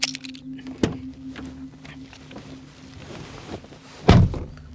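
A dull, solid thud of a 2022 Skoda Slavia's car door shutting, preceded by a lighter knock, with quiet cabin hum and no talking.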